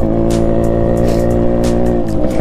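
A Yamaha RX motorcycle being ridden through a village in cold weather, its engine droning steadily and loudly throughout with a constant rumble and no pause.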